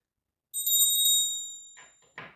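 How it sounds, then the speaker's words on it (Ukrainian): A small hand bell rings to call young children to a kindergarten math class, a bright metallic tone sounding close and clear and fading away, followed by two short soft rustles. "Чуєте, дзвоник лунає? Він на заняття нас закликає."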